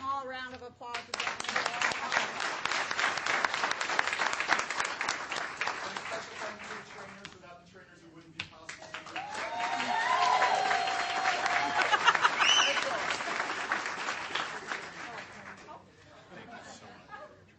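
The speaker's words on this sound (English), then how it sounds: "We give them all a round of applause again" An audience at a school board meeting gives a sustained round of applause lasting most of the time, swelling again midway, with chatter and a few voices mixed in.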